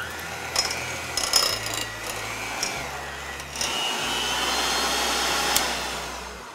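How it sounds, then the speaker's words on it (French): Butter is creamed with brown sugar for candied-ginger cookies, giving a motor-like whir that comes in short bursts at first, then settles into a steady continuous hum, close and alone. "Et on crème le beurre avec le sucre."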